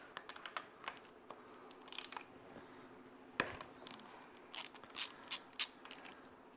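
A spark plug being removed from a 1978 Evinrude 35hp outboard engine gives faint, close metallic ratcheting clicks and small taps, irregular and quiet, with no talk.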